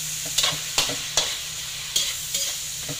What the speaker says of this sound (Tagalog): Halo-halo lang natin guys.